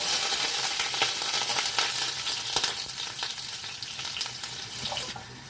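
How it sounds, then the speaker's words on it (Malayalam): Garlic frying in hot oil in a pan, cooking for a fish head curry: a steady, dense sizzle and crackle fills the whole stretch, with faint scraping stirs now and then, close and unbroken by talk. "നമുക്ക് വെളുത്തുള്ളി ഇട്ട് കൊടുക്കാം."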